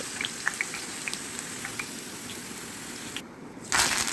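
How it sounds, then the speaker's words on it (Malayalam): Bitter gourd frying in coconut oil, a steady close sizzle with scattered crackles and pops, briefly dipping before resuming louder. "പാവയ്ക്ക വെളിച്ചെണ്ണയിലിട്ട് വറുത്തെടുക്കുക"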